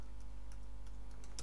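Quick keystrokes on a computer keyboard while entering text in editing software, a few soft, scattered clicks over a steady low hum.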